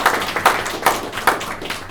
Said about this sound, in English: Clap for Miss Audra.